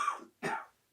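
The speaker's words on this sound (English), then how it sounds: "she's coughing a little bit" A woman, a director suffering from bronchitis, coughs twice at a short distance, the two separate bursts rough and breathy with a brief pause between them and no talking.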